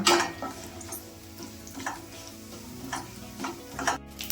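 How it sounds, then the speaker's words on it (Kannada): Spices crackle and pop in hot oil for tempering, quiet scattered bursts of spluttering over a low background hum. "ನೋಡಿ, ಒಗ್ಗರಣೆ ಎಲ್ಲ ಚೆನ್ನಾಗಿ ಸಿಡಿತಾ ಇದೆ"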